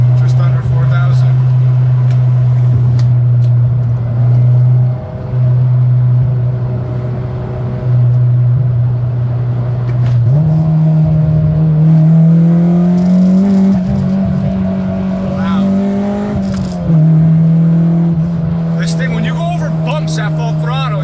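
An Acura RSX pulls hard at full throttle, a loud steady engine drone that climbs in pitch and hardens as VTEC engages just under 4,000 rpm, with someone talking over it inside the car.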